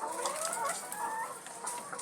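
Laying hens suffering from a snoring respiratory illness cluck continuously, with overlapping calls from several birds close by and steady flock noise underneath, and no talk.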